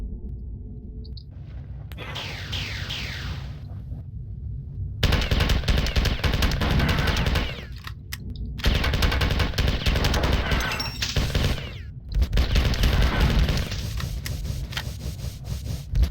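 Heavy automatic gunfire in the first-person shooter Marathon 2: Durandal, with long bursts of rapid rattling shots cut by short pauses, loud and close, and no talk.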